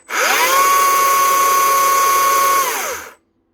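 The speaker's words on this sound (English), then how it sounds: "One Stihl cordless chainsaw up and running again." A repaired Stihl cordless chainsaw spins up quickly, holds a loud, even electric whine with its chain rattling for about three seconds, then winds down to silence.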